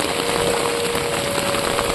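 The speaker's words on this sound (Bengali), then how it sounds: "মশাল ধারে বৃষ্টি চলছে" Heavy monsoon rain pours steadily onto a flooded street in Chittaranjan, a dense, even hiss of falling water that fills the whole clip with no pauses and no voices.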